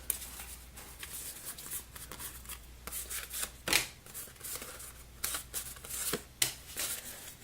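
Location cards for the board game Salvation Road being shuffled by hand, a run of quick papery riffles and flicks close to the listener, with no talk.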